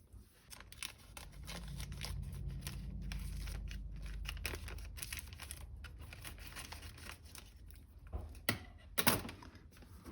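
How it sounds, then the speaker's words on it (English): Scissors snip and tear open a 2-pound paper bag of powdered sugar in a kitchen, with crinkling paper, a few sharp cuts and rustling handling noises close by, and no talking. "I need to get some scissors so I can cut open my powdered sugar"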